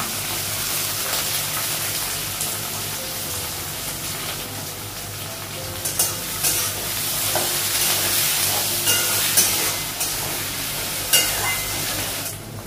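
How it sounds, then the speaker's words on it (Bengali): Chopped onion fries in hot oil with dried red and green chillies, cardamom and cinnamon, giving a loud, steady sizzle close by with scraping stirs and occasional clinks of a spoon against the pan. "পেঁয়াজটা ভাজা হয়ে গেছে"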